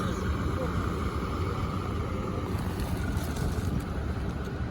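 A boat moves on the river in Paris, heard as a steady, loud rush of engine and water noise under wind buffeting the microphone, running unbroken throughout.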